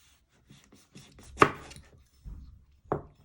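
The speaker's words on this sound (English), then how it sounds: "then you just keep chopping it into little pieces." A knife taps against a cutting board in a quick run of light chops through a cherry tomato, then a louder cut and a couple of separate chops after a brief pause.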